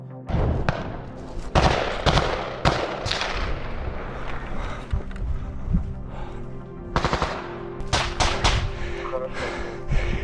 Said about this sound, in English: As Ukrainian forces continue their advance, gunshots are heard.